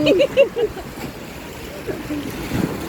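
Waves slosh and splash against a small boat at sea, a close, uneven wash under excited voices talking and calling out.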